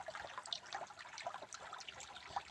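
Water flows out of a sluice into a creek, making a faint, steady trickle and burble with small splashes throughout.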